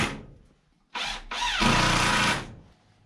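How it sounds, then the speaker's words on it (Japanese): A power driver runs screws into a home-centre steel plate to fix it temporarily during a DIY pillar replacement: a short whirring burst, a brief pause, then a longer steady whine that cuts off, close and fairly loud. "こちらをね、まあまずは一旦ね、仮止め、ビスで固定していきます"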